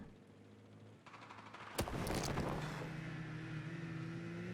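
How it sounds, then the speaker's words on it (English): Snowmobile engine in Battlefield 4 firing up with a sharp mechanical burst, then settling into a steady droning idle with a rising tonal hum, heard alone without talk. "Snowmobile activate. He's going for it. The engine. He hears it already."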